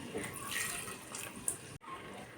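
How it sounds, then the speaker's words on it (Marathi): Cold water pours into a pressure cooker, a soft, close splashing stream that cuts off abruptly near the end. "मी आता यामध्ये घालत आहे पाणी"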